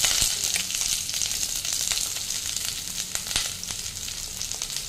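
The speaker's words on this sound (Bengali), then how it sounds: "দিয়ে এটা ভালো করে ভেজে নেব।" Potato, carrot, cauliflower and beans fry in oil with five-spice for a Bengali-style cauliflower chorchori, giving a loud, steady, close sizzle throughout with faint ticks of stirring.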